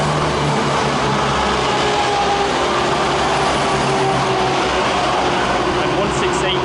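Class 168 diesel unit 168108 rolls through West Hampstead with a steady engine drone and rail rumble, sustained and fairly loud, with someone talking over it.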